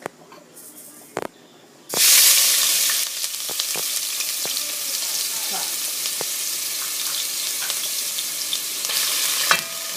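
Onions hit a hot pan and burst into a loud, steady sizzle and hiss that continues with occasional stirring clatters, after a few quiet kitchen knocks at the start.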